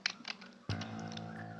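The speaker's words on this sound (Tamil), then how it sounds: "நம்ம சேனல் நேமை டைப் பண்ணிக்கிறோம்" A few quick computer keyboard keystrokes while a channel name is typed into Photoshop, crisp and close, followed by a steady low electrical hum that takes over for the rest of the clip with no talking.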